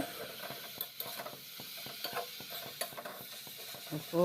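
Carrots, peppers and green chillies frying in a pan for a ghanto, with repeated scraping and stirring clatters over a low, steady sizzle, fairly close.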